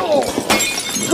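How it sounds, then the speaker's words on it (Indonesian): A glass holding fingerprints is knocked over in a film scene and shatters, a short bright crash of breaking glass heard up close, with a voice talking over it. "tanpa sengaja, mereka bertugrukan membuat gelas berisi sidik jari Voce pecah berantakan."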